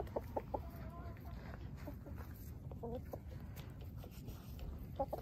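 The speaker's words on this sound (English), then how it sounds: "He's a pretty chicken." A chicken clucks in a few short, soft bursts close by, amid quiet farmyard background noise with some indistinct human sounds.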